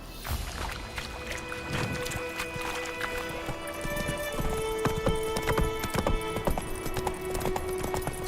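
A horse's hooves clip-clop at a steady trotting rhythm in the video game The Witcher 3: Wild Hunt, close and clear over ambient game sound, with occasional faint background noises.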